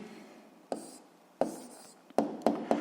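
Pen writing by hand on paper, a series of quiet scratchy strokes, several short bursts with pauses, the last ones coming quicker and close together.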